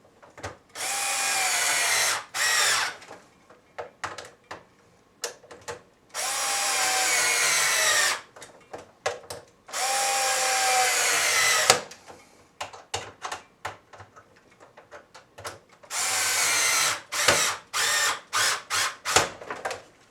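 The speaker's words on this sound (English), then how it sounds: "you might want to just tighten them up almost completely with the power screwdriver" A power screwdriver tightens screws on a Hoover WindTunnel U5720 vacuum during a power cord replacement, running in repeated loud whirring bursts of a few seconds each, separated by short clicks and quiet pauses.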